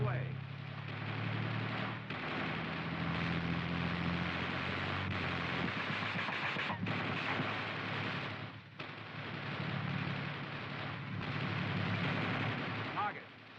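Tank cannon and coaxial machine gun fire toward troops roughly 800 away, sounding as a sustained dense roar of loud gunfire with heavy low-end booms and short gaps, while the vehicle moves out under the shooting.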